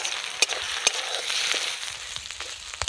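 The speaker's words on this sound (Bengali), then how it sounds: "আদা রসুন এবার আমি পেঁয়াজের সাথে ভালো করে ভেজে নেব" Ginger and garlic paste frying with onions in a pan for Bengali chicken tehari, a continuous close sizzle punctuated by a few sharp spoon taps and stirring scrapes.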